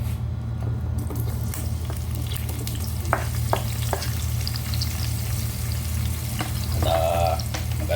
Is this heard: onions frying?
yes